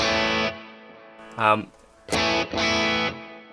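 An electric guitar runs through a Neural DSP amp plugin with a chunky high-gain tone, playing short, heavily distorted chord stabs separated by brief silences.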